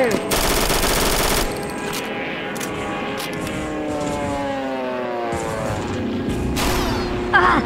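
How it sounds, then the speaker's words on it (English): Heavy gunfire rattles through a Roblox Frontline D-Day battle: a loud burst of rapid automatic shots opens the scene, then warplane drone and scattered shots follow, with another sharp burst near the end. "I'm taking heavy fire again!"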